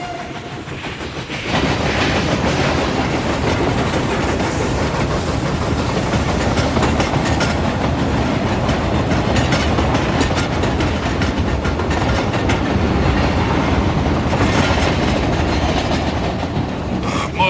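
A train rolls along the rails with continuous loud rumbling and clattering wheel noise, building after a brief quieter start and holding steady for the rest.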